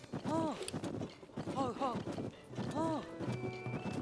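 In Tears of the Kingdom, a horse's hooves clop steadily under a few loud, whinnying neighs, with wind noise behind them.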